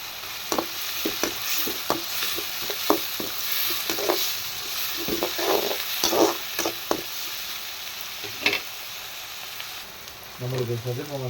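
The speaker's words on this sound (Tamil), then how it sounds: "வெங்காயம் வந்து ரொம்ப மொறுமொறுலாம் வர வேணாம் ஆஃப் குக்கு பண்ணால் போதும் கருவேப்பிலையும் போட்டுக்கணும்" Onions and curry leaves fry in a pan for a home-made egg parotta, with a steady sizzle broken by repeated stirring scrapes and clinks, close and moderately loud.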